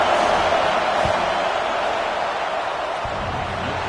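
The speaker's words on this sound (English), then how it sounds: "This crowd trying to do its part to get inside the kicker's head." Constant roar of a football stadium crowd as a field goal unit lines up on fourth down, a broad, steady wash of massed voices with a couple of faint thuds.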